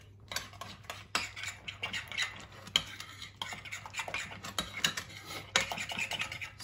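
Butternut squash wedges are tossed with syrup in a bowl, giving soft, quiet scraping and clinking of a utensil against the dish in a steady, irregular stirring rhythm, close and faint.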